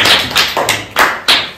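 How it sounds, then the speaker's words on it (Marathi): Hands clap five times at an even, quick pace, sharp and close, with no talk, praising a child in a Marathi punctuation-marks lesson. "टाळ्या वाजवा त्याच्यासाठी."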